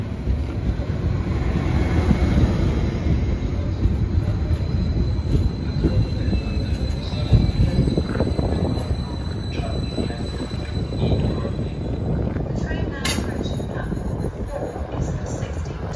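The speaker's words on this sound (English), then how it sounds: "departing now is the 1624 Transport for Wales service, starting here at Cardiff Queen Street, going to Cardiff Bay" A Transport for Wales train departs Cardiff Queen Street station, its steady rumble and wheel noise filling the platform at close range, with a brief higher squeal near the end.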